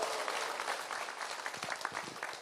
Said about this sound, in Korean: 그럼 크게 박수 한번 쳐주세요.